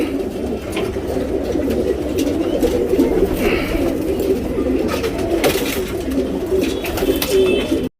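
Male racing pigeons kept for tournament flying coo steadily and close by, a continuous layered murmur of several birds throughout with no talking.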